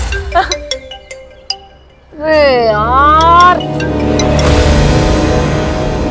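A mobile phone ringtone plays as a loud, warbling electronic melody, preceded by scattered short clicks and followed by sustained noisy sound.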